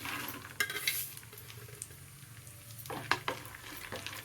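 Raisins, cashews and almonds roast over low heat in a pan, with soft sizzling under a few sharp scraping stirs and light clinks, quiet and close.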